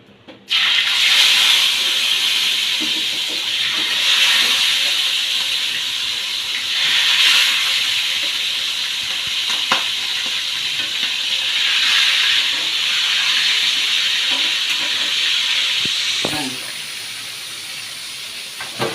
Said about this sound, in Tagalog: mainit na yung mantika. Sala natin yung ating pritong isda.